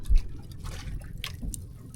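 Water is poured into a cooking pot holding chili, onion and tomato, making a close, brief splashing trickle that starts with a small splash and fades into soft dripping.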